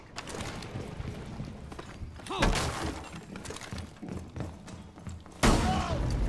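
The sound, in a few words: shotgun fire during a rush in Rainbow Six Siege video game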